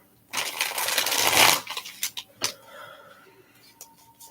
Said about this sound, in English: We're going to shuffle the Light Seers Tarot now.